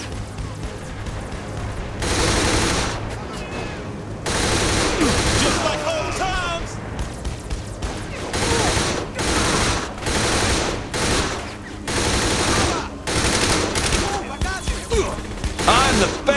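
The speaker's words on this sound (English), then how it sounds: "Mettiamoci la mitraglia, ok." Repeated bursts of machine gun fire in Saints Row: The Third, loud, rattling volleys separated by short gaps, with a voice talking in between.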